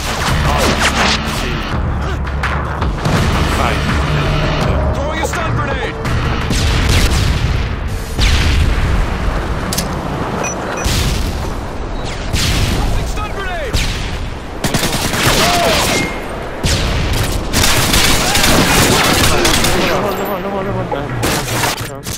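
Dense, continuous gunfire with rapid bursts and booming shots fills a Highrise demolition match in an online shooter game, while players talk over it throughout.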